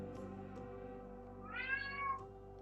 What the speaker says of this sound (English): my cat is being very, very whiny. She wants to go outside.